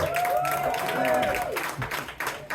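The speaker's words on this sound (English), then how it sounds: "Let's give him another round of applause." An audience applauds a performer's set at an ARTLife Studio show in Hazelton, clapping heard beneath a host speaking over it, with the applause swelling and then thinning out toward the end.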